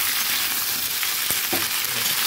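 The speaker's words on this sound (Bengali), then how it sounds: "তখন আমি এগুলো ভালো করে ভেজে নিই, তাহলে কাঁচা ভাবটা চলে যাবে" Vegetables for khichuri frying in a pan give a steady, close hiss of sizzling with a couple of sharp scrapes as they are stirred.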